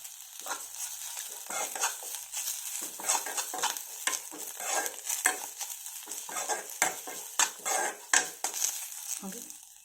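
Tamarind and sesame seeds roasting in a hot pan for betel-leaf chutney, with a steady run of dry scraping and rattling strokes, close and fairly loud, and no voices.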